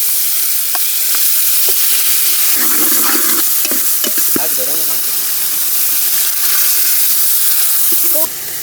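Green chillies and masala hit hot oil with garlic already in the pan for a home-style eggplant curry, giving a loud, steady sizzle with stirring scrapes throughout and some voices underneath.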